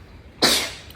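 A single sharp sneeze bursts out close and loud from near silence, its bright hissing release trailing off over about half a second, with no other sound around it.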